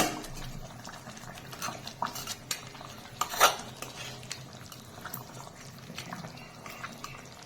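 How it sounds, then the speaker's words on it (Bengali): Fried fish heads being added to a pan for a Bengali fish head curry with tomato, then stirred: soft clinks and scrapes of a utensil against the pan, with a louder splash-like burst midway, fairly quiet throughout. "এরপরে দিয়ে দিচ্ছি ভেজে রাখা মাছের মাথা"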